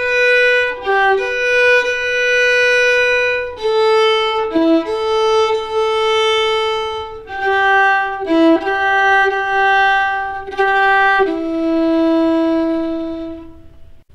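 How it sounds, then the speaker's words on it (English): Fiddle playing slow, easy phrases of the Skye Boat Song, sustained bowed notes moving stepwise in a gentle lilting rhythm, close and clear with no talking. "So I'll go ahead and play those again for you."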